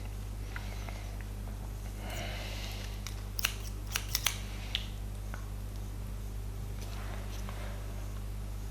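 Scissors snip hair at a barber during a girl's skin fade, a short cluster of crisp, close metallic cuts around the middle over a steady low hum, with no talking.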